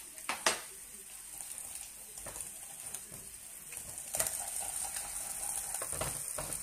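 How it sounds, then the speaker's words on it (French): Finely diced apples sautéing in butter in a pan, a soft steady sizzle with a few sharp clinks and scrapes of a utensil against the pan early on and again midway. "je vais faire revenir mes petites pommes"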